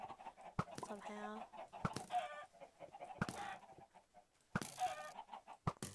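Chickens in the video game Minecraft clucking in short, repeated bursts, mixed with sharp percussive clicks at a steady, moderate level.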